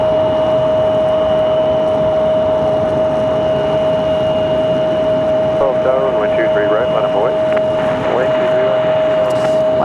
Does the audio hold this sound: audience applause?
no